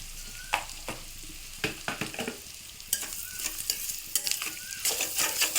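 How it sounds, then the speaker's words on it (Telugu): Salted onion pieces fry in a pan for an egg curry, a soft sizzle broken by repeated sharp scraping and clinking of a spoon stirring against the pan, close with no talking. "ఇప్పుడు ఉల్లిపాయ ముక్కలు దోరగా యాగనివ్వాలి"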